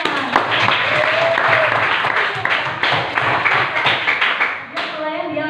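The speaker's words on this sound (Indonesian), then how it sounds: "tepuk tangan." A group in a classroom claps together in a loud, sustained burst of applause lasting several seconds, with some voices mixed in before it fades near the end.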